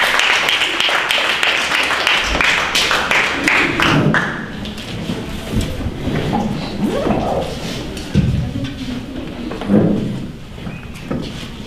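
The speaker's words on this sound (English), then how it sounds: "let us give our God the best clap of praise" Church congregation clapping in praise during a worship service, a loud burst of dense applause at the start that thins out into scattered claps and murmuring voices after a few seconds.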